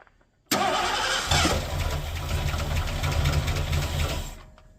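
A 1985 Mercury Marquis with a 351W V8 and a new starter cranks briefly, then catches and runs loud and close with a steady idle rumble before cutting off near the end.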